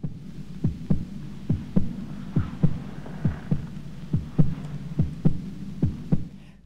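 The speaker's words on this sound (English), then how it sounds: "those are their heartbeats again that she's hearing." A heartbeat sound effect from the 1965 horror film Nightmare Castle: about a dozen paired, low, muffled thumps in a steady rhythm over a faint hum, fairly close and alone.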